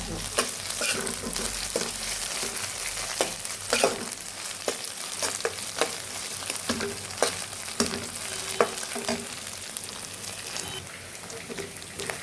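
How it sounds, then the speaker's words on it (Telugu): Ginger garlic paste frying in a pan as part of a broad bean curry makes a continuous close sizzle, broken by frequent scraping stirs and light spatula taps. "అల్లం వెల్లుల్లి పేస్ట్ వేగిపోయిందండి."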